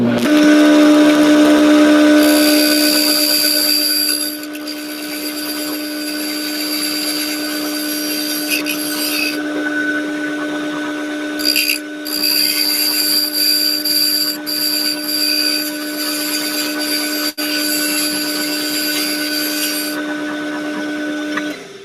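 A wood lathe spins a segmented wooden vase during finish trimming, its steady motor hum and whine running throughout while the tool's cutting scrapes come and go in bursts, close and fairly loud, with no talking.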